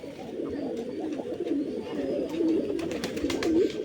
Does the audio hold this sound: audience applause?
no